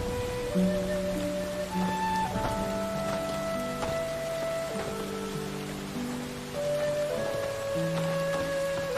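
Light rain falling, a soft steady patter that runs under sustained musical tones, with no speech.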